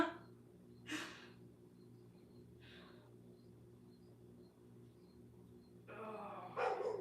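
A neighbor's dog barks in a few faint, distant bursts heard through open house windows, with long quiet gaps between them.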